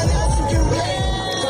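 A crowd at a No Kings protest cheers and shouts loudly and close, a dense wash of whoops and voices.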